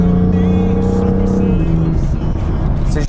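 A BMW M2 accelerates hard while overtaking, its engine note rising through the revs, then a gear change and continued loud pull from inside the car, without speech.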